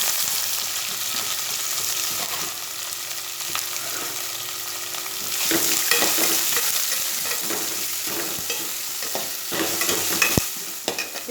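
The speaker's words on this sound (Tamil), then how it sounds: "அதோட கருவேப்பிலை போட்டுருங்க. கட் பண்ணி வச்சுருக்க வெங்காயத்தை போட்டுருங்க." Sliced onions and curry leaves fry in a hot pan with a steady, bright sizzle. A spoon stirs them in scraping, clattering strokes that grow busier and louder partway through, and a sharp clink sounds near the end.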